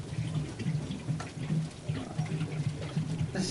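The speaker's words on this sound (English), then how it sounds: "If I just throw the fuel on the car," Fuel poured onto a car in Fortnite, a continuous gurgling splash of liquid with rhythmic sloshing pulses, fairly close and steady throughout.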